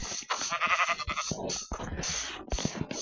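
Repeated nasal sheep bleats, close and fairly loud, come in short bursts with brief pauses between them.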